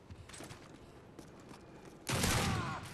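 Modern Warfare 3 gunfire, scattered faint shots early, then a sudden loud, dense burst of rapid fire that holds for about a second before easing off.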